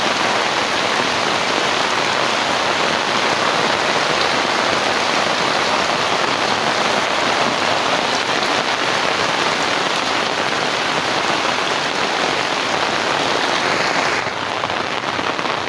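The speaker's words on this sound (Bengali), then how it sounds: "সকাল থেকে একারে অনর্গল বৃষ্টি হইতেছে" Heavy rain pours down steadily as a dense, continuous hiss of drops hitting surfaces, close and loud throughout.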